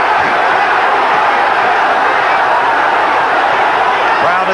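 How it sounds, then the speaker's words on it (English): A 1979 boxing crowd rises to its feet during a title fight, a dense, loud roar of cheering filling the arena continuously. "Crowd is on its feet."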